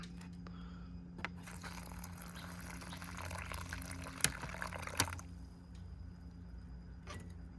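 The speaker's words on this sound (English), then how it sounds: "8 ounces of hot water, and then we can clamp it shut" Hot water, about eight ounces, is poured into a 1998 US cold weather ration oatmeal pouch with maple and brown sugar, a soft liquid fill over a low steady hum, broken by a few sharp scrapes and clicks of the pouch.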